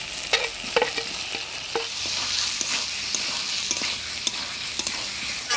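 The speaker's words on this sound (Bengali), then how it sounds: "আলু কচু দিয়ে মশলার সাথে ভালো করে কষিয়ে নিলাম।" Potatoes and taro sizzle in a spicy masala as they are stirred, a steady hiss broken by sharp spatula taps and scrapes against the pan, near and with no talk.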